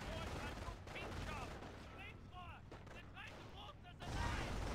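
Rifle fire crackles in a real-time strategy video game battle, with sporadic shots and distant rumbles alongside chirpy unit effects and mechanical noise, fairly faint and busy, ending in a louder burst.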